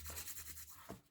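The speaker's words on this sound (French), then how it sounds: "C'est mon chien qui ronfle." An old dog snores nearby, a faint, raspy rattling breath with a brief throaty swell near the end, alone without talk.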